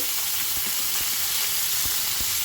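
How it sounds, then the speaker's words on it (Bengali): Chopped onion, cumin seeds and bay leaf fry in a little hot oil, giving a constant, even hiss of sizzling with faint soft ticks and no voices. "তেলটা গরম হয়ে গেছে আর একটুখানি তেল দিয়েছি দিয়ে দেবো কেটে রাখা পেঁয়াজ জিরে তেজপাতা দিয়ে দিয়েছি ফোড়নে"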